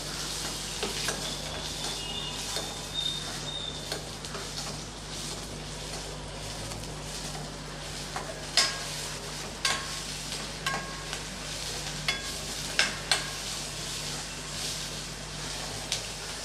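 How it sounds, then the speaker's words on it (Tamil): Chopped onions sautéing in a pan for a brinjal gravy, a steady close sizzle with scattered scrapes and clicks of stirring, no talking. "வெங்காயம் கொஞ்சம் பொன்னிறமாகிற வரைக்கும் நல்லா வதக்கி விட்டுக்கலாம்"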